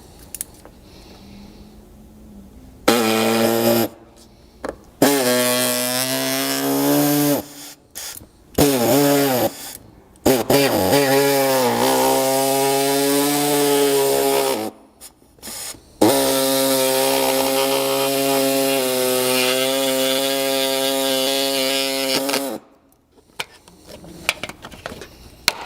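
Power tool cutting through a plastic air dam section from a 200 Series Land Cruiser front bumper: a loud, close whine that revs up in several short bursts, then settles into long sustained cuts before stopping.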